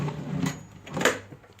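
A National Cash Register 542 cash drawer pushed shut, giving a close, brief sliding clunk with a rattle and a sharper knock about a second in, alone without talk.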